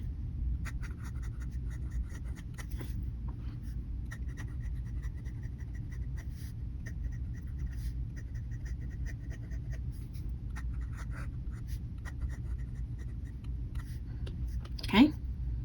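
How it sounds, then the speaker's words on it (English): A Pilot Falcon fountain pen writes on paper, producing faint, close scratchy strokes in short bursts over a quiet room hum, with brief soft breaths and a quick noise near the end. "let's do a writing sample here, and you would see like how I do it with my hand"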